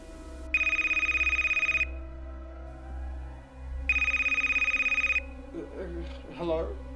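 A telephone rings in two long electronic bursts about two seconds apart, loud and close, followed by a voice speaking.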